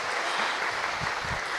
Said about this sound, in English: Let's give a round of applause for Avisha.